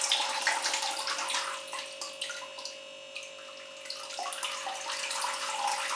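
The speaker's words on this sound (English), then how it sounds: "You see how quick the water is running through" Water poured quickly through orchid potting mix in pots of cattleyas and paphiopedilums, a steady splashing, trickling rush that eases briefly midway before picking up again, close and alone.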